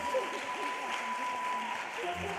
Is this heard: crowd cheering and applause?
yes